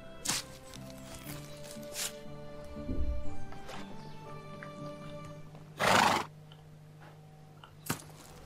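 A horse whinnies and snorts amid clip-clopping hooves and short bursts of noise, with a faint steady musical background, in the video game Medieval Dynasty.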